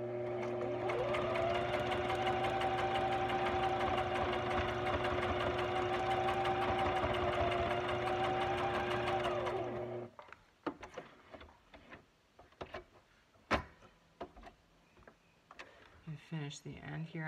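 A sewing machine stitches zigzag along a paper craft strip, a steady loud mechanical whir with rapid ticking for about ten seconds, then stops, leaving scattered handling clicks and rustles.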